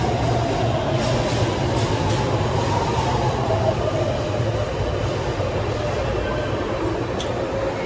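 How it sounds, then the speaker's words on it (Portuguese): A Fortaleza metro train on the Caucaia to Maracanaú line pulls into a station with a close, loud, steady rumble and a slowly falling whine that lasts throughout, with murmured voices in the background. "O nosso trem chegou."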